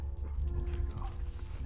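A dog in The Last of Us Part 2 video game gives short whimpers and yips, close and fairly loud, over a busy low game rumble with a faint voice in the mix.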